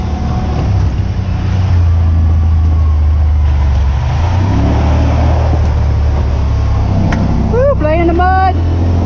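Yamaha Wolverine X4 side-by-side with Walker Evans shocks rolling along wooded trails, its engine humming loudly and steadily with low rumble and rattles, and a person talking briefly near the end.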